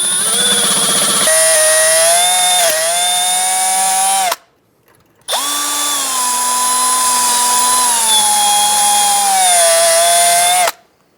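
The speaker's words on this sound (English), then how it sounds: "I'm going to use a drill bit and just drill it out." A drill bit bores out a stuck cotter pin during front wheel bearing and hub replacement on a 2007-2011 Toyota Camry, a steady high whine in two long bursts separated by a brief pause.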